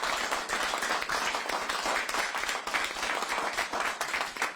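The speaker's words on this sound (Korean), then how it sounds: "손박수 부탁드립니다." An audience at a South Korean political election rally applauds with dense, steady hand clapping, loud and continuous throughout.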